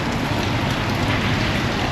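Rain falls steadily during a walking tour in Tallinn, Estonia, a loud, close, continuous hiss of drops on surfaces with no voices.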